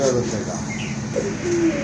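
A pair of large yellow magpie pigeons gives soft, low coos close by, with short tonal calls rising out of background murmur and voices talking nearby.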